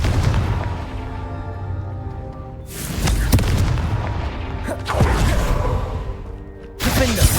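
Repeated Confringo blasting-spell explosions from Hogwarts Legacy boom out in loud, broad bursts, with about three big blasts rolling over a steady game background and a voice speaking between them.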